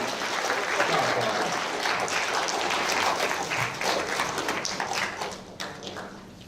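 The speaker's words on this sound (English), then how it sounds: "Let's give all of those guys one more round of applause as they make their way back to the stage" A school audience at an intermediate school prizegiving claps for students walking back to the stage, a full, steady round of applause that gradually thins and fades near the end.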